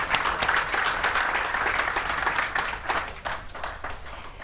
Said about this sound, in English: Can we have a little round of applause?